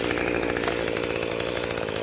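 Small two-stroke engine running steadily after a DIY piston replacement, loud and close with a buzzing, chainsaw-like drone that holds constant throughout.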